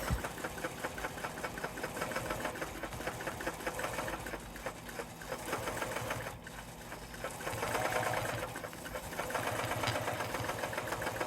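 A small long-arm quilting machine on a frame stitching basting lines across a quilt, a rapid continuous mechanical chatter and hum that rises and dips slightly as it moves, close and steady with no talk.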